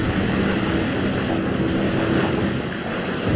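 Steady airborne drone engine drone from The Bureau: XCOM Declassified, a continuous loud hum with a faint propeller-like whir, holding level throughout with no voices over it.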